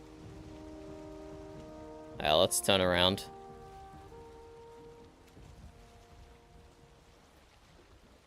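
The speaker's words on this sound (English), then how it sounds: "But now that it's raining and foggy" Steady rain in the video game Valheim, a soft continuous hiss running throughout while a voice speaks briefly over it.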